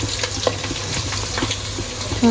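Chunks of Gujarati patra, colocasia-leaf rolls, fry in a hot pan with a steady, close sizzle and light stirring scrapes throughout, and no voices over the crackle.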